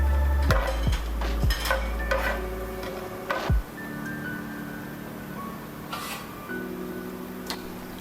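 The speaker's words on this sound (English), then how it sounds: "While the oil is getting heated, add the spices to it." Spices drop into oil heating in a pan for Godavari fish curry, giving sharp clicks and taps of utensils against the pan over a soft, steady sizzle, with scattered knocks and a low background hum.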